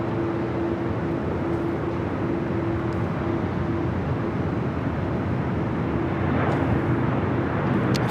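An Emirates airliner taxis at LAX, its engines a broad, steady roar with a faint tonal hum running through it, heard from some distance and continuing throughout.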